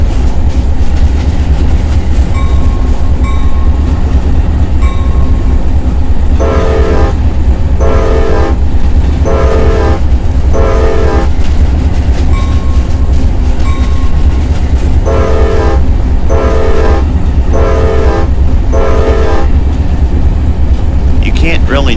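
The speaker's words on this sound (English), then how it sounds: "It seems to be just a single short horn option." A train rumbles steadily in the Train Sim video game while its horn sounds in two groups of repeated short blasts over the running noise, with someone talking at times.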